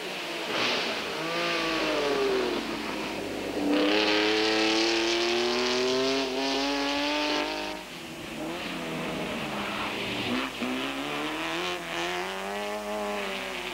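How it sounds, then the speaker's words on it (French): Vintage race cars, including an MGA and a Porsche, roar past at a 1990 Grand Prix de l'Age d'Or, engines loud and continuous with rising and falling revs as they accelerate and shift. "La MGA de Franck Duval. Et la Porsche d'Éric Van de Viver font le spectacle"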